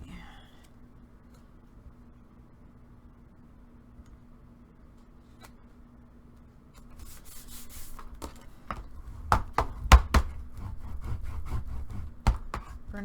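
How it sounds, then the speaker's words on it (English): Paper glued onto a homemade cardboard popcorn dispenser box being burnished down by hand, a faint rubbing at first, then louder scraping strokes and sharp taps near the mic in the second half. "Burnish it down real good."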